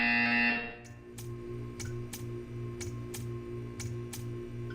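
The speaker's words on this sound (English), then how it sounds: "You will hear a buzzer." A buzzer in the video game Portal 2 sounds as a loud tone that ends abruptly, followed by a series of regular ticking clicks over a low, steady mechanical hum.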